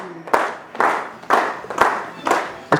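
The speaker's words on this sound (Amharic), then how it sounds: "እንስት ልደት ካሳሁን ጀግና ትንታግ አጨብጭቡላት።" An audience applauds at a thanksgiving and farewell ceremony, sounding as five bursts of clapping, each swelling and fading in a steady rhythm, close and fairly loud.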